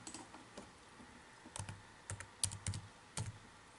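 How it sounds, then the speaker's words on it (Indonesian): Computer keyboard keys tapped in a quiet room while entering a complex-number multiplication in MATLAB, heard as short bursts of a few clicks each with brief pauses between them, close and fairly soft. "kita ketik Z itu perkalian dari X dan Y"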